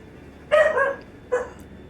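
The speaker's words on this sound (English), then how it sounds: "Even my dog is excited." A pet dog, a female, lets out two excited barks close by, a double bark followed a moment later by a single shorter one, with quiet room between.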